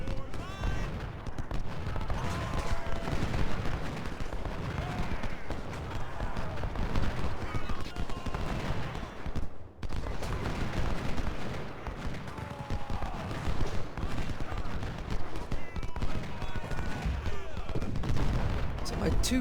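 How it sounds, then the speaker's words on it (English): Snipers keep shooting in the video game Ultimate General Civil War: a dense, unbroken wash of distant rifle fire and battle noise rolls on throughout, briefly dropping out midway, with no talking. "These 3 are constantly shooting at him."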